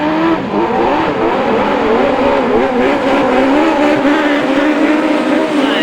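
Class 7 autograss racing cars roar loudly and continuously at St Neots, engines revving hard with rising and falling pitch as the pack races close by, a commentator's voice faintly beneath.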